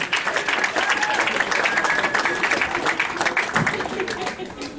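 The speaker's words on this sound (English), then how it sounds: "Now keep that applause rolling for Bryan Miller." Audience applause for comedian Bryan Miller at a stand-up show, a steady dense wash of clapping from a crowd that rolls on loudly throughout, with voices mixed in.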